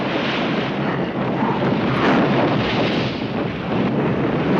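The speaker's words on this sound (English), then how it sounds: "It is a very windy day. This is an aggressive sailing moment." Strong, steady wind gusting across the sea during a sailing scene in the film Plein Soleil, a loud continuous broadband roar with some microphone buffeting and no voices.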